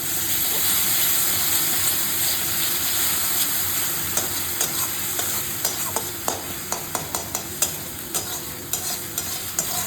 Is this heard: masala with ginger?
yes